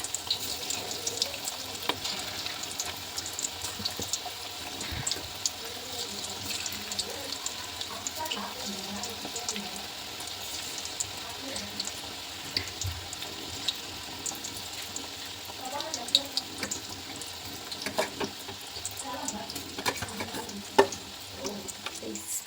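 Kebab pieces frying in hot oil in a home kitchen, a steady moderate sizzle running throughout with occasional clinks and stirring, no talk over it.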